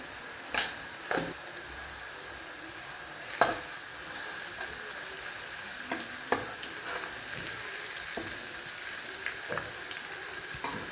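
Onions sizzle in hot oil for a bitter gourd fry, a steady low crackle broken by occasional scrapes and clinks of a stirring spoon against the pan, with no talking.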